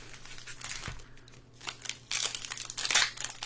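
Pokémon card booster packs being torn open by hand, crinkly foil wrappers crumpling and ripping in several bursts at close range, growing louder toward the end with no talk.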